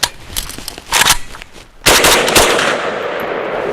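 A VSKA rifle fires at an outdoor range: several sharp, loud shots crack close by, each trailing into a long echoing decay.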